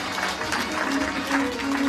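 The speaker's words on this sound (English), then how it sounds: "Let's give them another round of applause" An audience at an outdoor Ramayan performance in a New York park applauds with steady, dense clapping that fills the whole stretch, with crowd voices blended into the noise.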